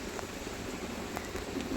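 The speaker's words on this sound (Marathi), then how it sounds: "आणि थोडा थोडा पाऊस लागतोय" Soft, steady patter of light rain, faint and continuous, with a few scattered drips standing out.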